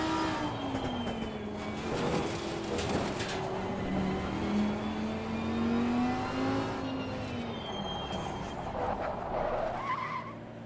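A racing car engine in the racing game Assetto Corsa Competizione revs and whines through gear changes, with tire skids and squeals, loud and continuous with no talking.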